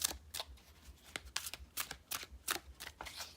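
Stiff tarot cards being side shuffled by hand give a quick run of crisp, papery slaps and riffling bursts, close and quiet, with no talking.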